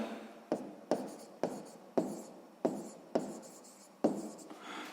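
A pen scratches across paper while writing out the answer to a sixth-grade math exercise, seven or eight short quiet strokes in an uneven rhythm, close and alone.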